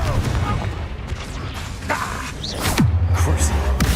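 A Confringo fire spell blasts in Hogwarts Legacy, a sharp explosive burst with a booming low tail amid ongoing game effects and a steady low drone; the loudest blast lands near the three-second mark.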